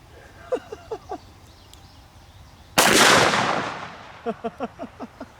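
A single sharp, loud blast from a Smith & Wesson Performance Center revolver with a 10.5-inch barrel firing 440 grain hard cast Underwood ammunition, with a long decaying echo, while a voice speaks briefly before and after it.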